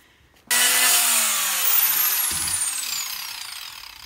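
Power tool cutting away excess plastic from a homemade chicken kill cone, a loud sustained whirring cut with a descending whine, starting abruptly and continuing steadily near the microphone.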